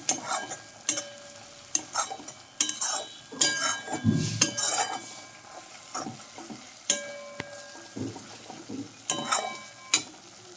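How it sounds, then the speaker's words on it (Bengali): Spices for chana masala sautéed over low to medium heat and stirred in a pan, with a steady soft sizzle broken by repeated scraping and clinking strokes of a spoon against the metal, close and fairly loud. "ধৈর্য ধরে লো টু মিডিয়াম আছে মশলা ভালো করে কষিয়ে নিচ্ছি"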